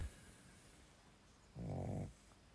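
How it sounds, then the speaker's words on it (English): A single loud snoring breath from a dog, low and rumbling, about half a second long against a quiet room. "how loud he snores"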